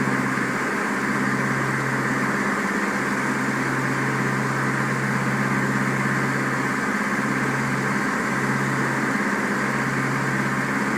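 Light aircraft engine at reduced throttle, set to 2100 RPM in Flight Simulator X during straight and level flight, a steady droning hum with a low tonal buzz, unbroken and constant.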